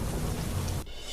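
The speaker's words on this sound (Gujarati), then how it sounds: "બોટાદના બરવાળા પંથકમાં અનરાધાર વરસાદ" Heavy, continuous downpour in the Barwala area of Botad, a dense, steady roar of rain that drops away sharply near the end of the short stretch.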